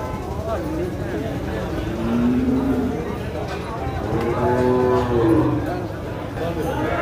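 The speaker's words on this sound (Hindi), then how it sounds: "इस व्यापारी की दूसरे नंबर वाली भैंस देखिए" A water buffalo at the Jagraon buffalo market lows twice in long, deep calls over steady crowd murmur and passing traffic.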